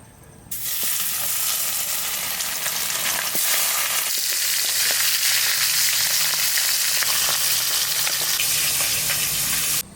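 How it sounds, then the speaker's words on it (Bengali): Pomfret fish fries in oil in a village kitchen, a loud hissing sizzle that bursts in suddenly, then holds steady and close before cutting off at the end. "মাছটা ভাজা হয়ে গেছে"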